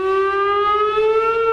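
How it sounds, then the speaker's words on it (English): Loud siren on a military base, a steady rising civil-defense wail with a strong tonal pitch held throughout, close and alone without any voices. "There was a loud siren on base."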